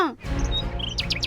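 Several short, high bird chirps and tweets from a forest setting in an animated story, bright and close, in quick succession over a faint background tone.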